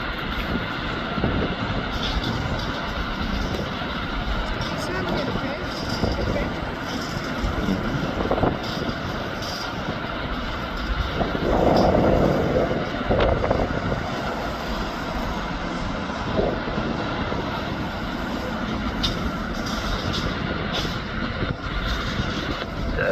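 A KLM Embraer E190 jet airliner departing Belfast BHD, its engines a continuous rumbling roar that swells midway, heard from a distance without voices.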